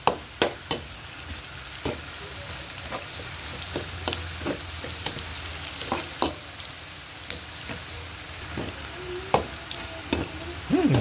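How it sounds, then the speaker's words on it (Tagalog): Garlic sizzles in hot oil in a pan for adobong sitaw, a steady frying hiss broken by frequent sharp scraping stirs, close and moderately loud with no talking. "Ayan mga idol, hulog na rin po natin yung ating bawang."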